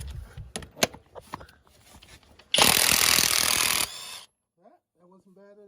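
Power tool working a bolt loose during a supercharger install on a 2008-2013 Cadillac CTS 3.6L V6, a loud steady whir of over a second following scattered clanks and handling noises, then quieter rattles.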